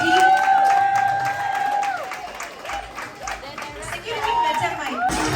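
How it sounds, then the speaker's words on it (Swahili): An audience at the launch event of a reality show claps and cheers loudly, with a steady wash of applause and crowd noise over the whole stretch and a voice carrying over it. "Pigeni makofi"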